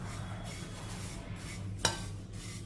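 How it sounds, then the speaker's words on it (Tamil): Oats dry-roasting in a hot kadai give a soft, continuous rustle and faint crackle, with one sharp clink of a spoon against the pan partway through. "இப்போ இந்த ஓட்ஸை வந்து இதில் போட்டுக்கிறோம். 3 நிமிஷத்துக்கு இந்த ஓட்ஸை வறுத்துக்கிடுவோம்."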